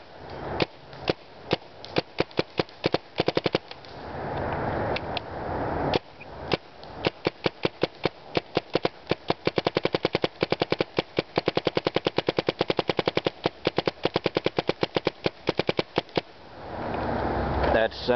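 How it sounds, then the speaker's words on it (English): A firearm fires on semi-automatic in quick succession: dozens of sharp, loud, close shots, sometimes evenly paced and sometimes in fast runs, with brief pauses and faint voices in between. "Shooting on semi."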